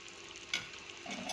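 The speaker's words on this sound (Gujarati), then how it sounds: "અને એકવાર હલાવી અને આને સારી રીતે કૂક થવા દઈશું." Butter paneer masala gravy is stirred in a pan on the stove, giving soft, steady scraping over a faint continuous sizzle with one brief louder scrape midway.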